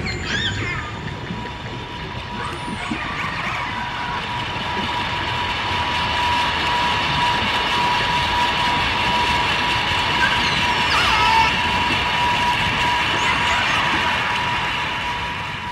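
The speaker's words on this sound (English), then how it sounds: "Just listen to this audio of how noise from a passing boat totally drowns out dolphin communication." A passing boat engine heard underwater: a steady mechanical drone with a sustained tonal hum persists throughout, muffled and fairly loud, swelling slightly in the middle before easing off.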